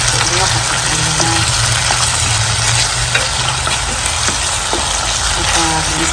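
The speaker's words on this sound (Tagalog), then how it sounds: "Ipag-gisang-gisa na itong kamatis." Tomatoes sautéing in a hot pan for a fish sarsiado dish, a loud, continuous sizzle and frying hiss with occasional stirring scrapes, steady throughout and close up, with faint talking beneath.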